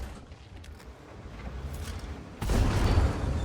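Artillery fire in a tank video game, with a dull distant rumble followed by a sudden, louder broadband blast that lingers as a heavy roar toward the end.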